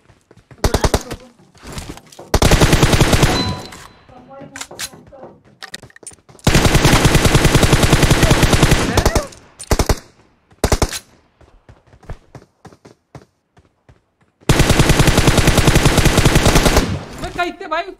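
Bursts of rapid automatic gunfire in the mobile game Battlegrounds Mobile India come in several long volleys, separated by scattered single shots and brief quiet gaps.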